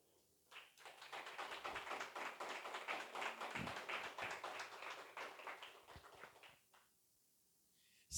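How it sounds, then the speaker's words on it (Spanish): A church congregation claps rhythmically and steadily together for about six seconds during a worship service, a dense, even patter of many hands that stops abruptly, leaving near silence. "Denle esas palmas al Señor."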